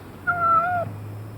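A white cat gives a single clear, drawn-out meow close by, heard alone over a faint background hum.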